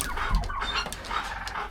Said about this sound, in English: I'll put y'all back with the turkeys for a little while.